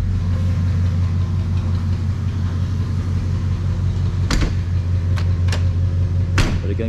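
A 1950 Ford Coupe engine idling steadily just after a cold start with the choke partly in, a close, even low rumble throughout, broken by a few sharp clicks and knocks near the end.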